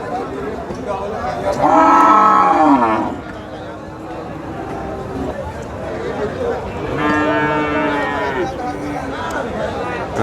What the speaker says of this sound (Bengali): আমাদের সামনে যে গাভীটি দেখা যাচ্ছে